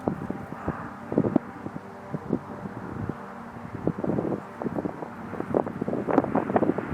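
Wind blowing in gusty bursts that buffet the microphone, rising and falling in rough, uneven waves, with no voices.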